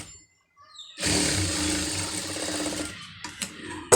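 A sewing machine runs steadily for about two seconds while stitching a sleeve joint, a close, even mechanical whir, followed by a few short clicks and taps.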